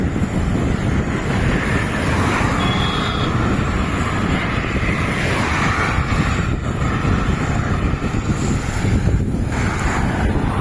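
Strong headwind roars loudly across the microphone while cycling toward Kanyakumari, a constant dense buffeting rush with no pauses.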